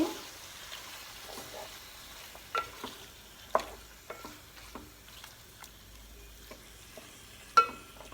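Prawn biryani masala being stirred and fried in a pan for a restaurant-style prawn dum biryani, with scattered scrapes and clicks of a spoon over a quiet, low sizzle, including a few sharper knocks.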